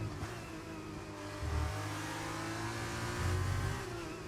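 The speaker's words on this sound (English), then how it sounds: "Clean lost a little bit of time. You heard him revving" A Formula 2 race car engine in a racing video game drones steadily, rising in pitch twice as it revs hard toward redline, with a tonal video-game quality.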